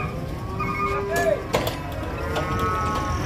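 A cow lets out a low moo amid noisy outdoor commotion, with people talking and shuffling around nearby.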